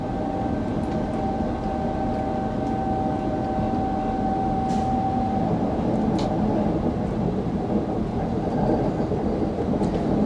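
Norwegian passenger train on the Dombås–Trondheim line rolling downhill and picking up speed, a steady loud rumble of wheels and rails heard from the cab, with a faint tonal whine early on and no talking.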